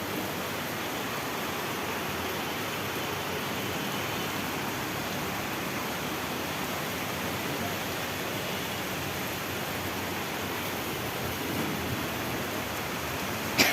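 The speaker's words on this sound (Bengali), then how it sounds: "হুট করে বৃষ্টি চলে আসছে।" A sudden shower of rain falls outdoors where cars are parked, making a continuous, even rushing hiss throughout with no gaps.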